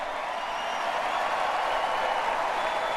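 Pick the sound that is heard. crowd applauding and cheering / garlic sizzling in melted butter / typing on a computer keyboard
crowd applauding and cheering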